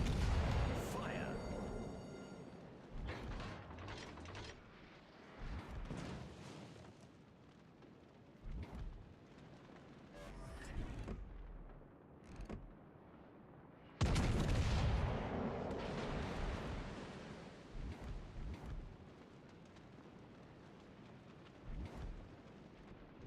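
Heavy naval gunfire in a warship video game, deep booming salvos with rumbling tails, a loud burst at the start and another about midway, with someone talking between the blasts.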